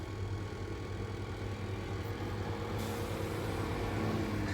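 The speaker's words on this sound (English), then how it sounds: "There's a lot of trucks in this area, as you could probably hear." Heavy trucks work on a city street on the west side of Chicago, a low steady engine rumble and idling drone heard from nearby, with a brief hiss partway through.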